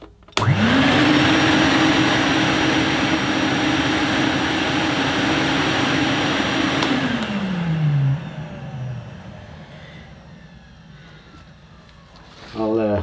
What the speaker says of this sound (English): There's a bit of a short in the machine, in the plug end.